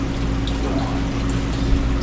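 Water runs steadily through a saltwater aquarium's wet-dry filtration system in an animal room, a continuous near trickling and splashing with a low pump hum underneath.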